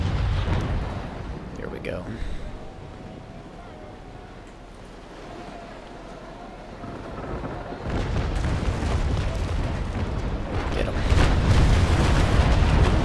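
Warship cannons firing a double charge in the Naval Action game, heard as deep rumbling booms rolling over ocean ambience and growing heavier toward the end, with someone speaking briefly near the start.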